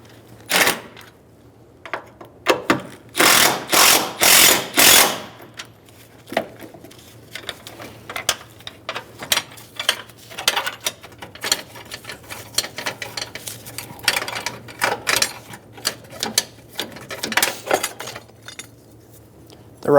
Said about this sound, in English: Using a 10mm socket, remove the two nuts for the battery tie down.